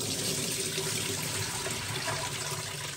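Running tap water rinsing food in a kitchen sink, a steady, close, continuous splashing rush with no pauses and no speech.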